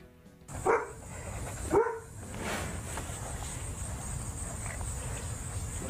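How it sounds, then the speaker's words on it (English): Two sharp barks from an English Springer Spaniel close by near the start, followed by quiet outdoor ambience with a faint steady insect hum. "She's an English Springer Spaniel"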